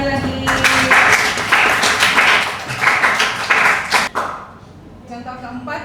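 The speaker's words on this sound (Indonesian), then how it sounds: "Beri tepuk tangan lagi" Students in a classroom clap in a dense patter of applause that swells and dips for several seconds, with voices talking over it before it fades.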